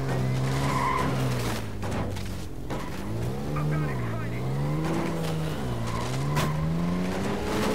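A car in the Dead Rising 2 video game revs and skids through a casino, its engine rising and falling with squealing tires, loud and continuous beneath occasional speech.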